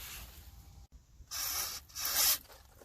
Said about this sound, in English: we're going to use that to spray out the wasp nest